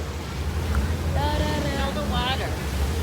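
A boat under way on open water, with steady low wind and engine-like rumble and a continuous wash of water, while a voice talks faintly over the motion partway through.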